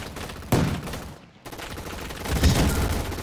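Gunfire in a shooter video game, a burst of rapid shots that cuts out briefly and then resumes as a denser, louder fusillade.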